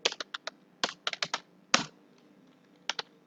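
Terminal commands typed on a computer keyboard arrive as scattered quick clicky keystrokes in short clusters with brief pauses between, close and crisp against a quiet room.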